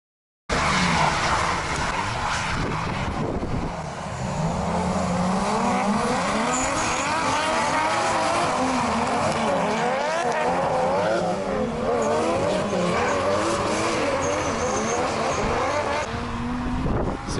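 Karting track with a loud, continuous drone of kart engines lapping nearby, pitch sweeping up and down as they accelerate and brake, with some tire squeal mixed in.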